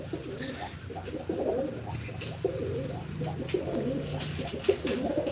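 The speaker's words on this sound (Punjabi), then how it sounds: "ਇਹ ਖੁੱਡਿਆਂ ਦੇ ਵਿੱਚ ਕਬੂਤਰ ਬੰਦ ਨੇ" Several pigeons shut in coop compartments coo continuously in soft, throaty rolling calls, close by, overlapping one another with no talking.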